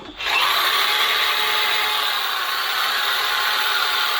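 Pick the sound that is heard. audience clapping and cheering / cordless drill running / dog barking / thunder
cordless drill running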